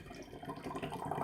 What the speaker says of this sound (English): pour hard into center of glass